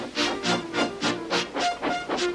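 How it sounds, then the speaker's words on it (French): Steam locomotive drawing closer with a steady rhythmic chuffing, about eight regular bursts of steam hiss mixed with clattering, fairly loud and close, no voices. "C'est dans un grand fracas et en crachant sa vapeur que Gordon se rapprocha du train."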